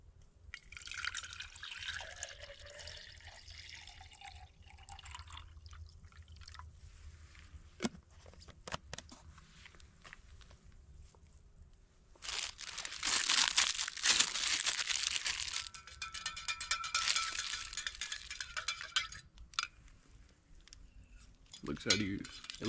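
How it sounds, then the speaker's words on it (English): Water is added to orange drink mix at a hot tent campsite, then stirred, giving faint pouring and trickling, soft crinkles and clinks, and a louder burst of sloshing and scraping midway. "Let's go ahead and add some water and stir it up."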